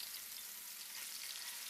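Turkey cooking in a hot pan makes a quiet, even, continuous sizzle that holds steady throughout without any break or voice.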